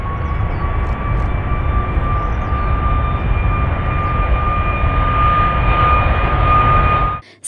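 Small model airplane at a school event, a loud, steady engine drone with a sustained high whine that holds for about seven seconds and then cuts off abruptly near the end.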